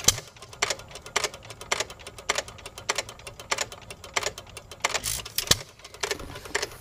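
An old flywheel engine runs just after a one-flick cold start, putting out a steady, regular train of sharp firing beats with occasional louder pops, fairly close and with no talking.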